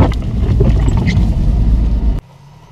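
An off-road SUV crawls over an obstacle on a snowy mountain track in the Southern Urals, its engine a loud, steady rumble with rough wind-buffeted noise that cuts off abruptly near the end.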